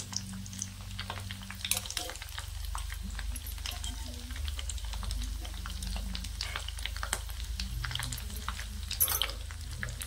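Bihari paneer jalso frying in hot oil, a steady crackling sizzle with scattered pops and bubbling running throughout, close and moderately loud with no talking.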